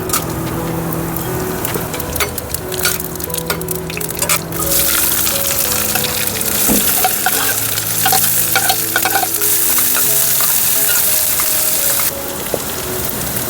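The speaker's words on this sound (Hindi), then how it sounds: "चलो अपनी गोभी भी फ्राई हो गई है हल्की हल्की सी।" Cauliflower frying with whole spices in a small kadhai at a night campsite by a waterfall, a loud continuous sizzle close up, broken by repeated scraping stirs and clinks of the spoon.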